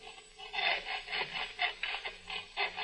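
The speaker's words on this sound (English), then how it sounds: "working a hacksaw through the bright, shiny steel" Hacksaw strokes grind back and forth through a section of tempered steel roller coaster track in a quick, even rhythm of about a dozen rasping pulls, fairly faint with no talking.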